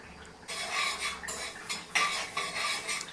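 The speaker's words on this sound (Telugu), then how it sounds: "లో ఫ్లేమ్లో అయితే స్లోగా కలపాలి" Korramenu fish pickle slowly stirred in a pan over a low flame, with repeated close scraping strokes of a spoon against metal and a faint sizzle underneath, no voices.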